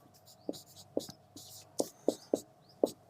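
A pen writes on paper while solving a class 10 math substitution problem, giving close scratchy strokes with several sharp taps as the pen lands, irregular and rhythmic over a few seconds under quiet whispered speech.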